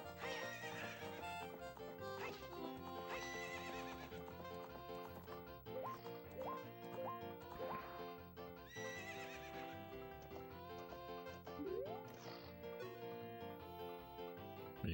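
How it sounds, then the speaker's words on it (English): A horse in the video game The Legend of Zelda: Ocarina of Time neighs and whinnies over steady clip-clop hoofbeats and game music, a continuous layered soundtrack with no talking. "I've never been particularly good at riding a horse."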